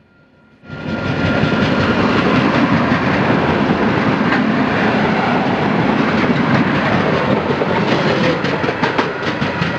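After a quiet start, three ETM railway track machines roar close by, their heavy rumble and rhythmic clickety-clack of wheels on track continuing steadily.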